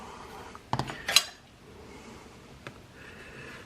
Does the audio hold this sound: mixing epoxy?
yes